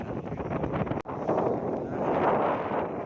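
Strong wind buffets the microphone at a beach near Parangtritis, a loud continuous roar with gusty rustling that drops out for a moment before surging back, no voices heard.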